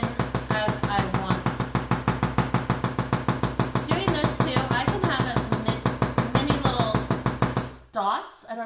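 Rapid, steady hammer taps on copper sheet metal being textured for sunflower earrings, dozens of even strikes in a fast rhythm close by, ending in a brief pause with a faint voice.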